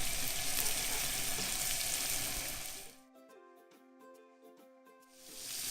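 Veal saltimbocca browning in a frying pan: a loud, steady sizzling hiss for about three seconds, then it drops away to quieter, thinner frying sounds before the sizzle swells again near the end, close by with no talking.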